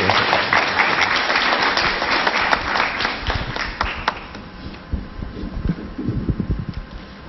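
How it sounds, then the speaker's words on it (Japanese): Audience applause at a seminar in Tokyo, a dense, sustained clapping wash for about four seconds that thins into scattered, uneven claps before fading. "大きな拍手をお願いします。"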